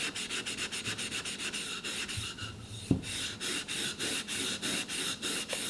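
Steel wool rubbing along a bamboo pole lengthwise with the grain, a steady run of quick rhythmic scrubbing strokes, close and fairly loud, with a brief knock midway; no talking.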